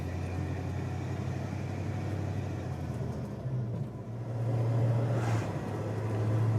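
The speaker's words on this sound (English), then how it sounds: "I'm going to do a windows down test drive" A 1966 Mustang GT Coupe driving with the windows down rumbles steadily from inside the car, the engine note rising and swelling midway as it pulls harder.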